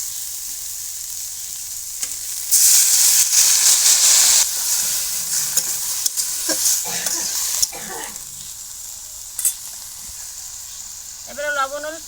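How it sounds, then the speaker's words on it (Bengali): Leafy greens frying and sizzling in a pan with a little water added, a broad steamy hiss surging loud for a couple of seconds, with stirring scrapes and clatters and a faint voice near the end. "শাকগুলো একটু পুড়িয়ে পুড়িয়ে উঠতেছে।"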